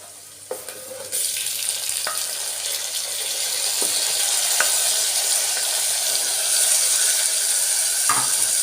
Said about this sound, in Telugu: ఇప్పుడు టమాటాలు వేసుకుందాం.